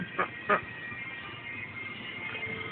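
Two short quacking calls from ducks or geese come close together near the start, fairly near, followed by a low steady background.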